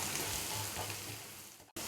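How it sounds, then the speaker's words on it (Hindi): Fennel seeds, coriander and green chilli roast in a hot pan for moong dal kachori filling, giving a continuous close sizzle that dips briefly near the end before resuming. "सौंफ, धनिया और इनको भी हल्का सा भूनते हैं।"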